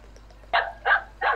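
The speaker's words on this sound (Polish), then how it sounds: "Co to za pies?" A dog gives three sharp barks spaced about a third of a second apart, fairly close and clear over a low steady hum, in a Farming Simulator 17 barley harvest game.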